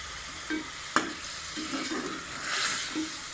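Masala for chicken bhuna roasting in a pan with salt and turmeric, giving a steady soft sizzle broken by scraping strokes of a spoon and one sharp clink near the start, close up with no talking.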